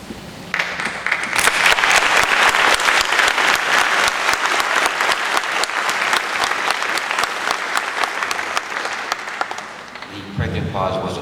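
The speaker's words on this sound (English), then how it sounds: "The pregnant pause wasn't there for your applause, but thank you very much anyways." A lecture audience breaks into long, vigorous applause with crisp individual claps audible throughout; it holds for about ten seconds, then thins out as a voice begins at the end.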